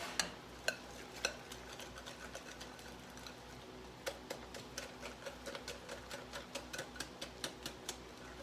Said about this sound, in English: I'm going to go ahead and stir that up now.